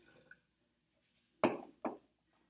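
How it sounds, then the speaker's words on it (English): Water poured into a graduated cylinder during a classroom measuring activity, heard as two short splashing bursts close together, quiet and near, with no talk over it. "We pour into a graduated cylinder."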